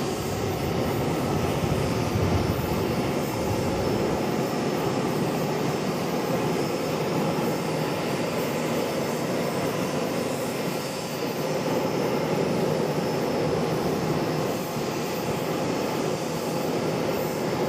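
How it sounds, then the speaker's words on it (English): An American Airlines Boeing 737-800 arriving at Charlotte, a steady broadband jet roar that holds at a fairly constant level throughout, heard from a nearby observation deck with no talking. "Next arrival, coming in from Philadelphia, American Airlines 2074"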